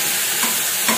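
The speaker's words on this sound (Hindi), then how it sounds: "सबको अच्छे से सौते कर लेंगे।" Vegetables being sautéed and stirred in a pan for a children's breakfast dish, a steady soft sizzle with a couple of faint stirring scrapes, close and continuous for a brief moment.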